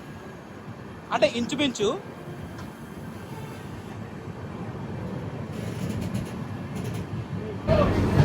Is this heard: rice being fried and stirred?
no